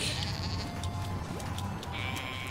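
A goat in the video game Guild Wars 2 bleats in drawn-out, wavering cries, loud and close over a steady bed of game ambience.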